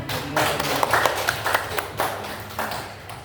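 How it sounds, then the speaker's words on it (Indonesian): Applause from a seminar audience at a teachers' orientation event in Surakarta, a steady patter of many hands clapping with a few sharper claps standing out, moderately loud and sustained throughout. "Beri tepuk tangan."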